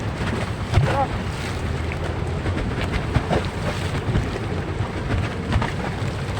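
Rumbling engine and rushing water of a passing ferry on a wide river, with wind buffeting the microphone and brief voices in the background.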